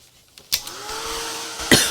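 A heat tool runs over wet paint on a cigar box being given a faux-metal mixed-media finish. It switches on with a click about half a second in, then gives a steady, close, airy whir with a faint motor tone, and no talk.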